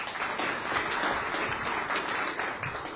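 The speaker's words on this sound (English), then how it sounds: "that will probably be the only applause I get" Audience at a fiscal responsibility forum applauding a congressman, a steady wash of many hands clapping at moderate distance, fairly soft and continuous for the whole stretch.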